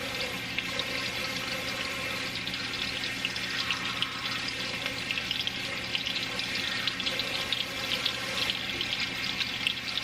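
A kitchen tap runs steadily as hands are washed, a constant close hiss of water with faint splashes throughout and no talking.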